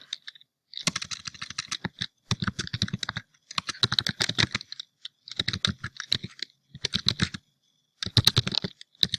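Fingers type a product review on a computer keyboard in quick bursts of clustered key clicks, broken by short pauses, close and clear with no voices.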